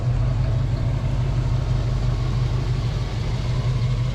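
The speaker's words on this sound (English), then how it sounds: "the car is starting. The starter's not stuck on" Ford Foxbody Mustang engine running at a steady idle after starting, a continuous low rumble with a throbbing pulse, close and moderately loud with no talking.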